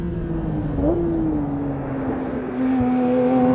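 A Porsche 911 GT3 RS engine drops through the gears into a corner, its drone stepping in pitch with each downshift and then holding steady as the car turns in, heard close from the cabin.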